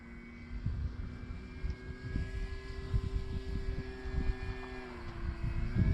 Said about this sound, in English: you got to hold in right rudder, taking off with this plane